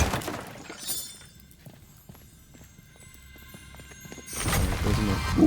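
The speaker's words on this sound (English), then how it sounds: "Sounds like something unlocked" In the video game Nightingale, an unlock effect plays as a burst of bright, crackling, shimmering noise, with scattered clicks and taps leading up to a loud swelling whoosh near the end.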